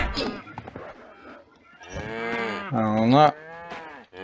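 Cows moo in the survival video game SurvivalCraft 2 as two drawn-out, close lows, with someone talking briefly before them.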